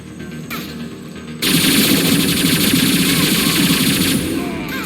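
Rapid automatic fire from a rifle bought to replace the Vindicator in the video game Mass Effect 2 starts abruptly as a loud, dense burst and goes on steadily for several seconds before cutting off.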